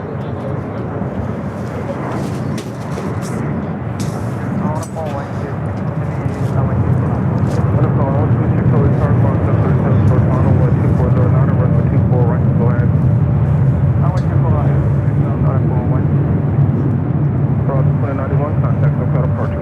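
An airliner takes off from runway 24 left at Los Angeles LAX. A loud, steady jet roar builds and holds throughout, with voices talking beneath it.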